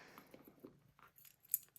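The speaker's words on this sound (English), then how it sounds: "And then just some keys." A small set of keys jangles briefly and faintly, a few light metallic clinks going into a compact Aspinal of London Mayfair Mini bag.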